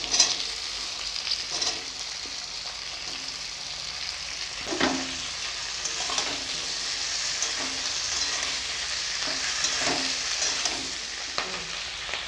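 Potatoes and spring onion stalks brown in oil in a pan for a fish-head dish, sizzling loudly and steadily up close. Repeated spatula scrapes and stirs break through the sizzle, with no talking.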